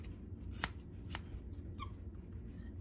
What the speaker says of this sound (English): I've got my scissors up against here, and then I cut.